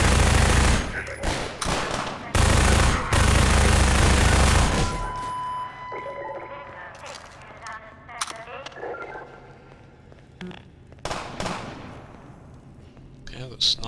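Rapid bursts of gunfire from snipers in RoofTopVille, a Half-Life 2: Episode Two single-player mod, loud and dense for the first few seconds, then thinning to scattered sharp shots and clanks over quieter ambience.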